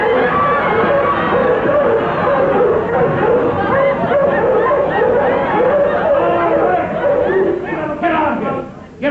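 Small chihuahuas standing in for bloodhounds yap and bark excitedly on a 1950s live television variety stage, loud and continuous, mixed with a crowd murmuring and laughing around them.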